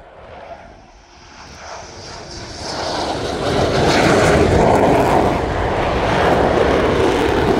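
An F-15 Eagle fighter jet at an airshow rushes in from a distance, and its roar builds into a loud, broad jet rumble that holds steady as it passes.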